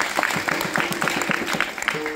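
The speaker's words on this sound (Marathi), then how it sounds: "त्याच्यासाठी एकदा सर्वांनी जोरदार टाळ्या वाजवा" An audience at a Marathi harikirtan devotional performance claps in response to a call for loud applause, with fairly distinct overlapping claps in an uneven rhythm and a faint tone near the end.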